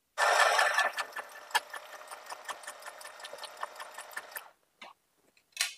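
A small portable sewing machine light enough to lift in one hand stitches cloth with a quick, even mechanical ticking and whirring that runs for several seconds, then stops, followed by a few isolated clicks; no one speaks.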